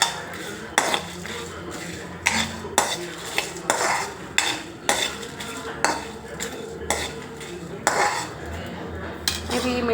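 Masala spices are roasted in a pan, with a metal spoon repeatedly scraping and clinking against the pan in a steady stirring rhythm, close and fairly loud.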